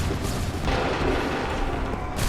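A musket volley fires in Assassin's Creed III as a dense, loud, continuous roar of overlapping gunfire blasts. It fills the whole span with no clear gaps between shots.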